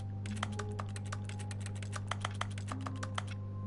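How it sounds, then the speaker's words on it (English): Fingers tap out irregular keystrokes on a computer keyboard in The Stanley Parable video game, crisp clicks over a steady low hum of room tone, with no voices present. "You can type on the computer."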